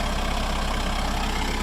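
A Kubota tractor engine idles steadily while land is cleared of cedar trees, a loud, continuous low rumble with an even, throbbing pulse and no voices.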